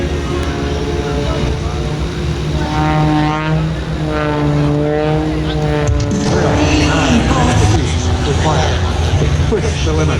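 An aerobatic propeller airplane at an air show drones steadily, its engine pitch rising and falling as it maneuvers, with a commentator talking over it throughout.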